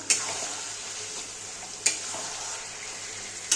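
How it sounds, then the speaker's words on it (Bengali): A ladle stirs chicken pieces into fried masala in a pan, giving a soft steady sizzle with a few sharp scraping clacks of utensil against the pan, close and alone without talk. "এবার আমি চিকেনগুলো সব দিয়ে দেবো। একটু নেড়ে দেবো,"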